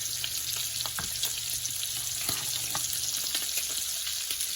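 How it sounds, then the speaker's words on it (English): A pot of boiling seafood gumbo bubbles and hisses steadily while a spoon stirs, adding scattered scraping clicks against the pot. "we're just going to give this a nice stir"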